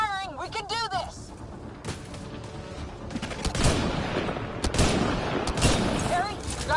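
Sustained weapon fire in the sci-fi shooter Mass Effect Andromeda, sharp automatic bursts and heavy impacts building in intensity, with shouted character voices at the start and game sounds filling the rest.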